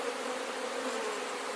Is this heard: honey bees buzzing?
yes